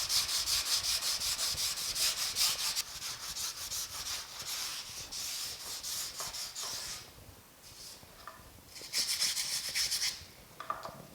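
Body filler on a 1950 Chevy truck is sanded with 120 grit paper in steady, close, rasping back-and-forth strokes, continuous at first and then breaking into shorter passes with brief pauses.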